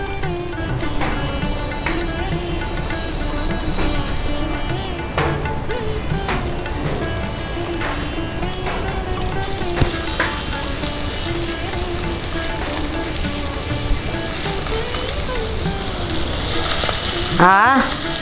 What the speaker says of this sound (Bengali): এভাবে আমি বাকি মাছগুলো ভেজে নিচ্ছি।